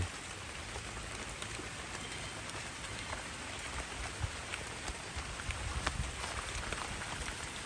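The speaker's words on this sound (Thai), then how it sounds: "ฝนตกหนักแล้ว" Steady heavy rain pours down on surfaces, a dense continuous patter of drops with no pauses and no talking.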